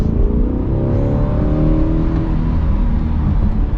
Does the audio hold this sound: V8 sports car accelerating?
yes